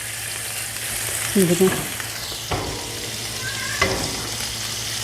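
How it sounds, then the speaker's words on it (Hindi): Chicken kabab koobideh on skewers frying lightly in oil, a constant close sizzle with occasional clatter of the skewers being moved, and a brief spoken word. "इसे हमें सिर्फ फ्राई करना है, हल्का हल्का सा फ्राई करना है।"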